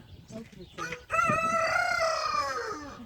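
A rooster on a home flock of chickens lets out one long, loud, close crow lasting nearly two seconds, following a few brief clucks and rustles.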